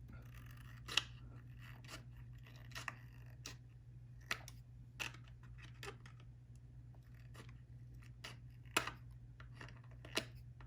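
Scissors snip an RC car body shell, a Baja Beetle for an SCX24, trimmed near the license plate area. Sharp, isolated cuts fall at irregular intervals over a low steady hum, quiet and close, with no speech.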